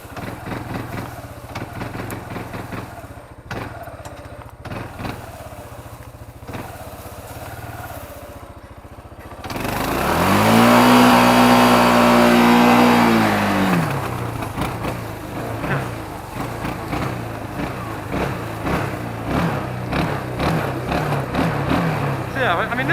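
A motorcycle engine rumbles while being ridden, rising into a harsh, angry-sounding rev that holds and then settles into a steady drone, with a person talking over much of it.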